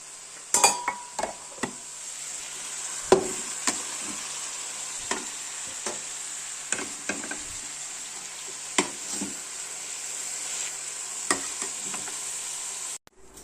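Coriander leaves cooking in oil in a pan, a soft steady sizzle broken by a dozen sharp scraping and clinking stir strokes at irregular intervals, close by and without talk.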